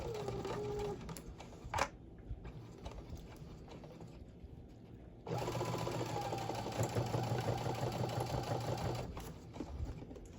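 A sewing machine stitches a mini tote bag in two runs of rapid, even mechanical whirring and ticking, separated by a short pause with a few clicks. Close and fairly quiet.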